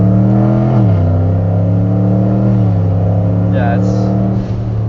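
A turbocharged 2016 Corvette Z06 making over 1000 wheel horsepower accelerates in second gear with paddle shifting: a loud, close engine drone that climbs in pitch, then drops sharply at each quick gear change, with a voice briefly heard.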